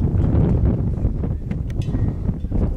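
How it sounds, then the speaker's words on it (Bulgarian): Wind gusting near a mountain hut on Rila mountain, loud continuous rumble buffeting the microphone, with no talk. "Малко вятър духа."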